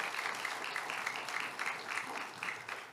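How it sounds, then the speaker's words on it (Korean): A church congregation applauds the worship team, steady, moderately distant clapping with a soft rhythmic pulse running through it. "우리 찬양팀 파워워시팀 박수로 한번 축복해 주세요"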